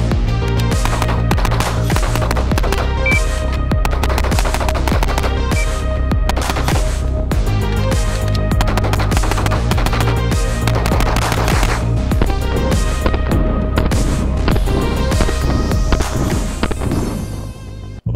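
A Glock pistol fitted with a Radian Afterburner Ramjet compensator fires 115 grain range ammunition on a shooting range, in a loud, dense run of rapid sharp shots that continues throughout.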